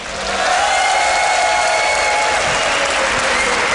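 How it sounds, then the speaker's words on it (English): A large crowd at a StarCraft esports tournament quarter-final applauding and cheering for a player, a dense, loud roar of claps and shouts that swells in and holds steady. "people are cheering for her so heavily"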